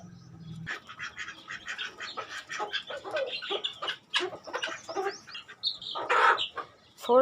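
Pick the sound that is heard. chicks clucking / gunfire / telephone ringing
chicks clucking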